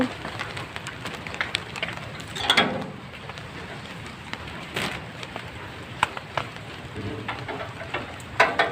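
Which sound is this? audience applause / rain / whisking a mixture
rain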